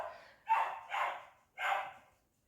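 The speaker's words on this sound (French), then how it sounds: "pour mon chien qui aboie" A pet dog barks indoors three times, close and loud, two quick barks followed by a third after a short pause, with no talking over them.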